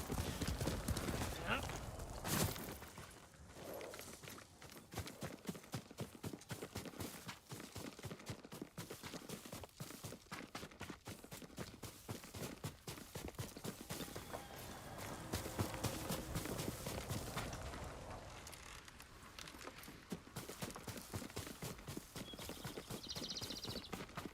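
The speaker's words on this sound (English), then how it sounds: "Yuriko's horse." A horse's hooves clip-clopping steadily in the video game Ghost of Tsushima, a rapid regular rhythm of close hoof beats running throughout, with spoken voices and ambient game sound at times.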